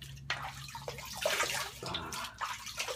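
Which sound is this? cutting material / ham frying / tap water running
tap water running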